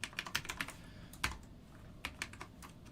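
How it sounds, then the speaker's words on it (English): Someone types on a computer keyboard in short, uneven bursts of clicks with a pause in the middle, close and fairly quiet, no voices. "I am so bad at typing."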